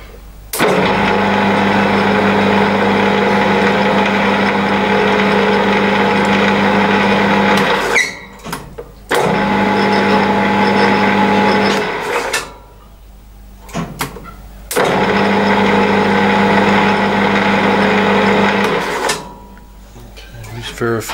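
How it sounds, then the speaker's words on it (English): Lathe running at its lowest speed, giving a steady mechanical hum with a low tonal drone that cuts off and restarts three times, close and loud. "I've got the lathe on the lowest speed."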